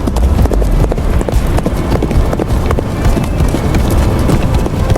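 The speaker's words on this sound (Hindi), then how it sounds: "वो घोड़ा दौड़ाता दारुल हुकूमत से कोसों दूर आ गया।" Rapid, continuous hoofbeats of a horse galloping, loud and close, with a steady driving rhythm and no talk over it.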